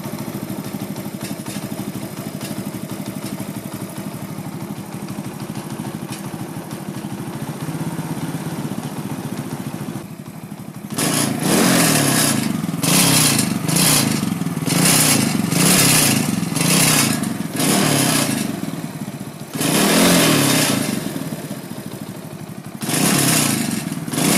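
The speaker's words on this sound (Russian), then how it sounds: "Оживил мопед." A moped engine that has just been brought back to life idles with a rattly, uneven putter, then revs up loudly in repeated bursts close by, with no talk.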